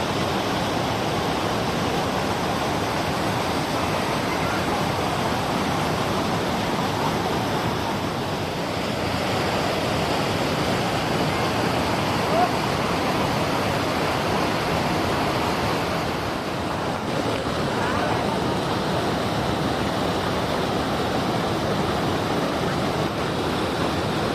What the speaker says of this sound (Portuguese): Vejam, essa é a Cachoeira da Porteira Preta.